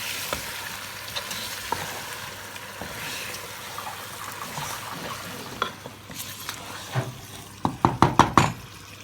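Chicken and spice mixture stirred in a pan over a soft sizzle, with scraping strokes and a quick run of sharp knocks of the spoon against the pan near the end.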